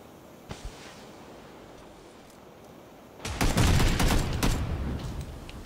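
A PUBG match on Xbox One: after a quiet stretch with a couple of faint pops, a grenade blows up with a sudden loud burst of crackling, booming detonations that keep rumbling to the end.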